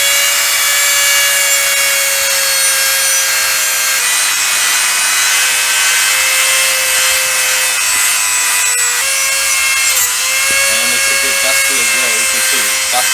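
Parts from a Losi 5ive T RC car kit polished on a big buffing wheel, a loud continuous high-pitched grinding whine with shifting pressure and brief rubbing changes, steady throughout; no talking.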